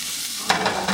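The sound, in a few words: onions, peppers and mushrooms frying in a pan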